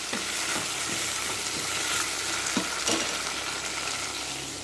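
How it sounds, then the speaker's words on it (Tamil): Food sizzles steadily in a hot pan while being sautéed until soft for a Madurai mutton dish, with a dense continuous crackle and occasional soft stirring knocks, close and unbroken. "இது கொஞ்சம் வதங்கணும், சாஃப்டாகிற வரைக்கும் வதக்கணும்."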